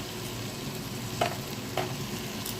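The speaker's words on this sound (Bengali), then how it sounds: "সামান্য একটু আদা গুঁড়ো দিয়ে ভালো করে একটু নাড়িয়ে নেব ডালের সাথে।" Dal with a little ginger powder is stirred in a hot pan: a soft, steady frying hiss with two brief spoon clinks against the pan, no voices.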